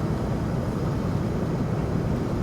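Steady broadband roar of an airplane descending toward the runway at JFK airport after a long flight over the sea, a continuous low-heavy engine rumble with no break or change.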